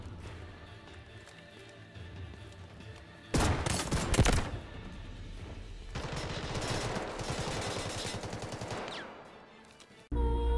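Gunfire in the shooter game Delta Force Hawk Ops comes as bursts of rapid automatic shots, one short volley and then a longer stuttering string, loud and close amid other game sounds.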